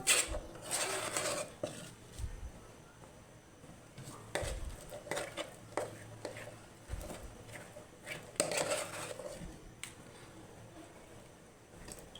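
Ragi mudde being shaped with a ladle in a pot, uneven scraping and thudding strokes with some clinks, close but fairly quiet, with pauses between bursts and no speech.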